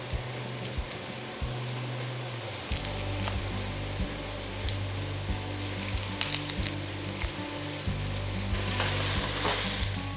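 Vegetables sizzle and crackle steadily as they cook down in a hot pan, with occasional scrapes and stirring clatter, close and continuous throughout.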